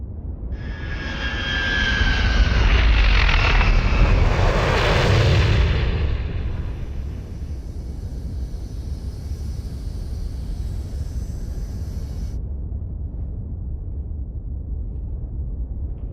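A spacecraft landing in Star Wars: The Old Republic, a loud roaring jet-engine swell with high whine that builds over several seconds, then settles into a steady low engine hum with no talking.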